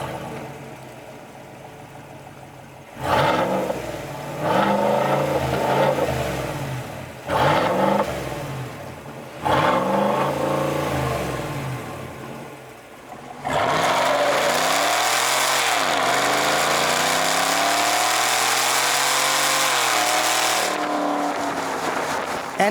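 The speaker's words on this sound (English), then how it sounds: "I'll let you guys hear that V8 real quick." A 2019 GMC Sierra AT4's 6.2 liter V8 with a dealer-installed performance-tuned exhaust blips three sharp revs from idle. A long, loud rev follows and climbs and falls repeatedly, close and deep with a throaty roar.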